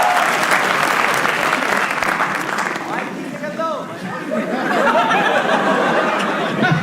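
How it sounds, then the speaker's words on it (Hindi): Live audience at a comedy roast show applauding in sustained clapping, with chatter and some laughter mixed in, the applause easing slightly midway before swelling again. "बड़ी बार आशीष भाई के लिए ताली बजाएंगे यार"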